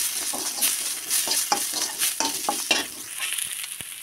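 Curry leaves and turmeric powder fry on a low flame, a close, continuous sizzle punctuated by repeated crisp stirring scrapes and taps, no one speaking.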